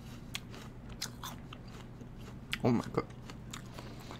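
A crunchy NY Ruby Frost apple being bitten and chewed up close, with a sharp crunch burst followed by a few smaller crunches, while a person talks around it.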